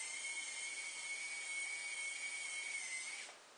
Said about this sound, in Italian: Spero che questo rumore della piastra faccia sentire bene l'audio